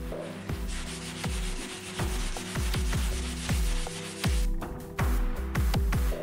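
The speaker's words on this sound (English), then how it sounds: "I also have to sand the fork." Repeated rough rubbing strokes of sanding on a Cervelo R5 bicycle fork, metal, each scrape ending in a brief ringing resonance, in an uneven steady rhythm.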